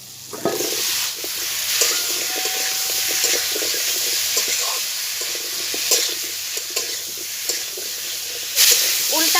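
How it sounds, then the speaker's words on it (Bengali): Elephant foot yam is stir-fried with cumin powder and spices in a pan for a fish curry, giving a continuous close sizzle with irregular scraping strokes of the spatula and no clear speech. "এটাকে মশলার সঙ্গে আমি ভালো করে কষে নেব"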